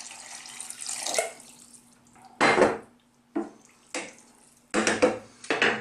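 Liquid is poured into a pot of soft cooked zucchini (courgette) for cream soup, arriving in several separate splashy gushes with quiet gaps between them, close by and without any voices.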